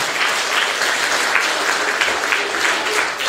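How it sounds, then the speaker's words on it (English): A theatre audience applauds the cast after a performance of The Snow Queen, giving a steady, dense burst of clapping from many hands that lasts several seconds. "please give another round of applause to our amazing cast."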